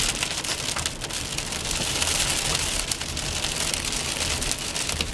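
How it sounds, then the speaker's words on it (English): Steady, heavy rain pours down continuously, a dense hiss of drops pattering on surfaces close by, with no voices. "I just want you to hear the rain."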